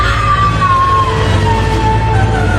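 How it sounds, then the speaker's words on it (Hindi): A woman lets out a long, sustained scream from a kitchen, loud and close, wavering slightly in pitch as a horror-story sound effect with no talk over it. "तभी किचन से उस औरत की चीखने की आवाज आई।"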